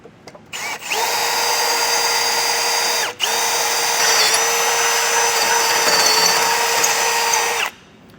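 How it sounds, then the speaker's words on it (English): A power drill with a 3/8-inch bit whirs steadily at high speed for several seconds drilling through a 2024 Ford Maverick base plate mounting hole, stops briefly, then spins up again and runs on before cutting off. Close and loud. "I'm going to use a 3/8 drill bit to drill through this bottom hole here"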